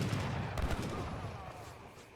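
Rifle rider cavalry firing in an Age of Empires III battle, a dense rumbling volley of overlapping gunshots that stays steady and then eases slightly, heard as a busy mid-distance skirmish.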